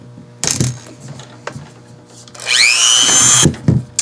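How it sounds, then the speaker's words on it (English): A power drill bores a hole into a whole coconut, giving a loud rising whine that builds for about a second near the end, preceded by a few short knocks and handling clatter. "What I'm going to do is drill a hole into the coconut"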